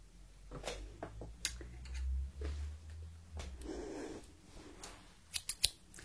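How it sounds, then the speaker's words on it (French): Several crisp metallic snips from scissors cutting hair, close up, scattered irregularly with short pauses between, ending in a quick cluster of cuts. "Les fameux ciseaux."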